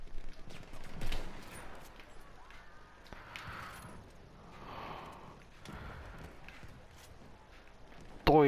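Scattered gunshots from the video game Battlefield 1 ring out at a moderate distance, a few sharp reports mixed with battlefield rumble.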